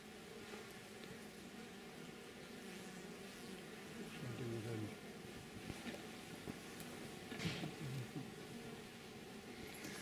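A wasp buzzes around beehives in a cathedral setting, giving faint, wavering insect drones that come and go over quiet outdoor background noise.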